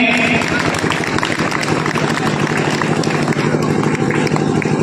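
A large seated audience keeps clapping in welcome for an honored guest at a commemorative event. The applause is thick and continuous, with crowd noise and voices running beneath it.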